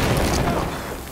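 A teammate's bomb explodes right at the player in Battlefield 4's Second Assault on PS4, a loud, close boom that starts at full force and then slowly rumbles away.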